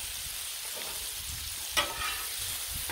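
Vegetables and rice fry in oil on a Blackstone griddle, a steady close sizzle with occasional scraping stirs of a spatula, outdoors in wind, with no talking.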